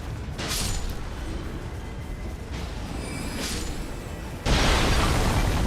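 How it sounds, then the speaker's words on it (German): Cannonball explosions in the Elden Ring Nightreign video game, dense rumbling booms stacked over a constant roar of battle noise, with a heavier blast bursting in near the end. "er wirft einfach mit Kanonenkugeln umeinander"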